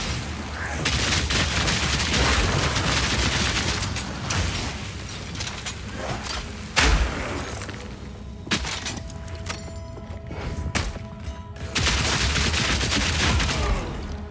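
Rapid fire attack in Path of Exile 2, dense mechanical clatter of repeated shots and impacts layered with booming game effects, loud and continuous with a brief lull partway through.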